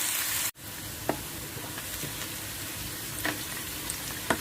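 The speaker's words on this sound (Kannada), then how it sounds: "ಈರುಳ್ಳಿ, ಹಸಿರು ಮೆಣಸಿನ್ಕಾಯಿ ಎಲ್ಲ ಒಂದು 3/4 ವಾಸಿ ಮಾಡಿಸ್ಕೊಳ್ಳೋಣ" Onion and green chillies fry in a pan for brinjal palya, giving a steady, close, dense sizzle with a few soft stirring clicks and no talking.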